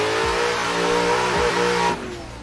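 A stock VDC Corvette in Assetto Corsa revs hard, its engine note climbing steadily in loud, close pitch sweeps with brief gear-change dips, then dropping off abruptly near the end.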